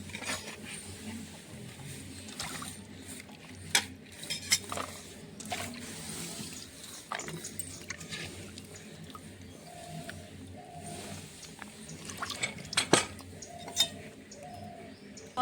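Small red potatoes and vegetable stalks being washed by hand in water, with soft splashing, sloshing and occasional light clinks of a pot or bowl, fairly close and continuous with small sharper knocks now and then.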